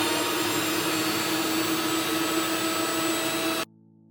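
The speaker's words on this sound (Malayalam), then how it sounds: "പച്ചക്കടുകും കൂടി ഇട്ട് ഒന്നുകൂടെ നമുക്കൊന്ന് ക്രഷ് ചെയ്തെടുക്കാം." Mixer grinder crushing grated coconut with green mustard seeds for beetroot kichadi, a loud steady whirring grind running without pause for over three seconds before stopping abruptly.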